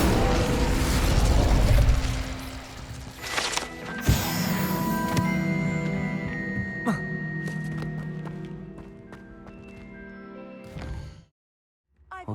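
The Incendio fire spell is cast in Hogwarts Legacy, giving a loud whooshing burst of flame that gives way to bright ringing magical tones and clicks before it cuts to silence.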